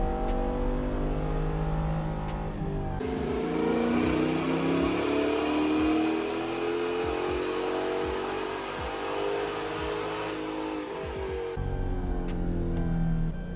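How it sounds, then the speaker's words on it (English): A cammed 2014 Dodge Charger 5.7L Hemi revs hard under throttle during a tuning run, a loud sustained engine roar that climbs and holds, alone with no talk. "I just rolled into the throttle, in case anybody was wondering."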